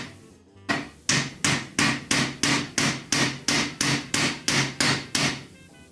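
Steady, evenly spaced hammer blows drive wooden dowels into a wooden headboard, about a dozen sharp close strikes in a regular rhythm with no talking.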